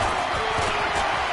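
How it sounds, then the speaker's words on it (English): Roar of a loud crowd inside the Dome during a Panthers vs. Saints football game, a dense, steady wash of noise from the stands held at a constant level throughout. "The crowd here in the Dome making things difficult."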